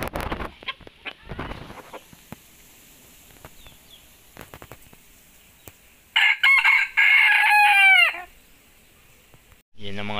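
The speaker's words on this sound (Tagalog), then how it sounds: "ang bagong dating natin na labuyo" A labuyo, a Philippine wild chicken, crows once loudly and nearby in a short rising-and-falling call after a stretch of faint background noise and scattered knocks.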